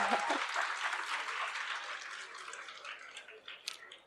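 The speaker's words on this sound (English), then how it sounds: "Please let's clap for the parents." Applause from an orientation-day crowd of students, parents and friends swells at once, then gradually thins and fades, with a few scattered claps near the end.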